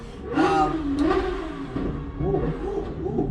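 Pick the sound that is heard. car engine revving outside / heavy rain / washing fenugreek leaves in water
car engine revving outside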